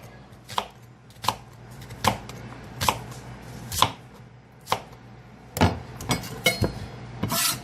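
Knife chopping down through stuffed chicken on a cutting board, about a dozen sharp, close impacts at an uneven pace, some in quick pairs, with no talk.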